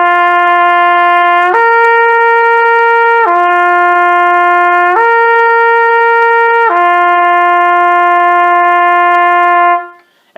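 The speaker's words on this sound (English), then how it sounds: "We're going to start on G for trumpet, go up to C, back to G, up to C, and back to G." Trumpet playing an expanded lip slur from G up to C and back, repeated twice, with five clean sustained notes alternating low and high in an even rhythm, the final G held longest. The tone is close, loud and steady, with no talking.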